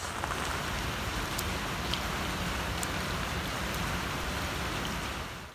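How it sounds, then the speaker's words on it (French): Rain falls in Abidjan, a soft steady hiss of drops with occasional faint crisp ticks, fairly quiet and continuous before fading at the end, with no voices. "il est 8 heures et il pleut encore à Abidjan"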